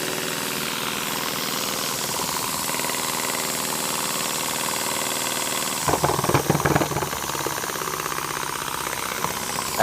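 A twin marine steam engine built by Anton Bohaboy, running on 20 PSI of steam, gives a loud, steady mechanical rumble that grows busier and more rhythmic about two thirds of the way through.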